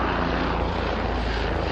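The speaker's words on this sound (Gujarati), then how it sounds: "ક્યાંકથી હેલિકોપ્ટર આવે છે, ક્યાં છે એ રહ્યું" Helicopter on the Yamunotri and Gangotri pilgrimage route passes close overhead, a loud, steady, broadband rotor-and-engine roar filling the whole short stretch without voices.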